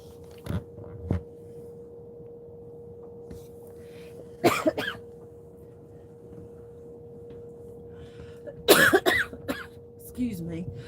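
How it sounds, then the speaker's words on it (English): A person on a pontoon boat while catfishing lets out several separate coughs and throat-clearing bursts, close and loud, spread across quiet stretches over a steady background hum. "I got the cough."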